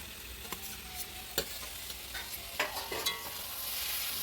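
Potatoes sauté in goat fat for a young goat khichuri, a moderate sizzle under irregular scraping stirs and a few sharp spoon knocks on the pot.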